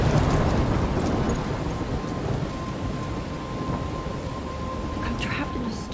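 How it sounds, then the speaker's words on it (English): Thunderstorm ambience inside the Life Is Strange video game: a steady, loud roar of heavy rain and wind with deep rumbling thunder throughout, continuous and close, with no talking. "I'm trapped in a storm?"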